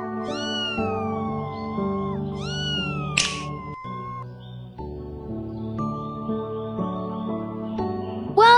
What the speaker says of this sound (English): Kittens are hungry. Please choose their preferred food.